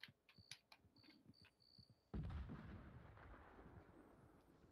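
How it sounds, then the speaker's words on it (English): A deep rumbling boom in Red Dead Online rolls in abruptly after some sharp clicking and tapping, then fades slowly into a low lingering roar. "I hear explosions in the distance."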